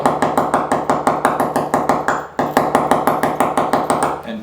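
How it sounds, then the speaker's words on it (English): Rapid, evenly spaced metallic taps of a drill bit point striking tile, loud and close, in a steady rhythm with one brief pause midway. "I'll put the point of my drill bit right in the cross and I'm just going to tap a little"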